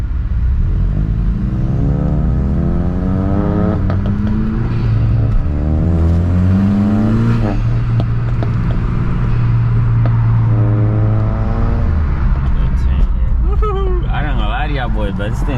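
A BMW F30 car's engine and exhaust rev repeatedly up and down close by, loud and droning with rising and falling pitch, and a few voices are faintly heard near the end.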